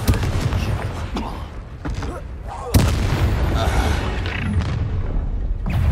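A spell blast in the Hogwarts Legacy video game bursts as a loud boom amid dense, continuous battle noise, with a second sharp impact midway, all close and heavy.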